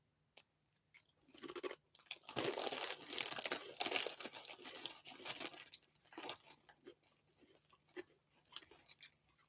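A crisp packet crinkles and rustles close by in an irregular run of crackling bursts, busiest in the middle and thinning out toward the end, quiet overall with no talking.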